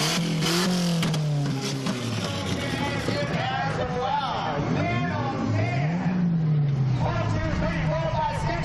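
At a fair race event, a race car's engine roars past, rising and falling in pitch as it goes by, over constant crowd hubbub and loud talking nearby.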